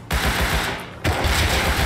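Rapid automatic gunfire in the survival game Rust, dense overlapping shots that keep going with a brief pause near the middle before another loud, sustained burst.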